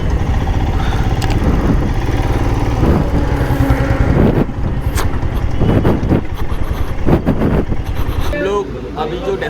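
A motorcycle engine runs loud and close throughout, with a steady rumble, some revving, and people talking over it.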